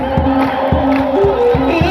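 A church congregation at a sermon ululates in loud, rhythmic, high trilling bursts, with many voices overlapping close by in a chorus of celebration.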